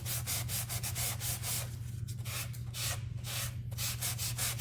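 Close, soft scuffing as a painted frog figure is sanded down, brisk back-and-forth strokes that speed up at first and then slow into a few longer rubs over a steady low hum.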